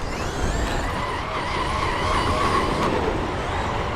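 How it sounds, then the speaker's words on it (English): A Traxxas XRT radio-controlled car drifts all four wheels across dirt on mixed-purpose tyres, giving a continuous close, loud motor whine and gritty skidding rush with no pauses. "Oh, 4-wheel drift round there."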